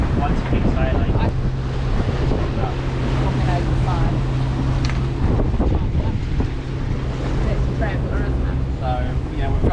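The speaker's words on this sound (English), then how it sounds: "So, we've got steady wind now." Steady, heavy wind roars across the microphone aboard a cruising catamaran under sail in the Caribbean, with water rushing past the hulls and people talking underneath.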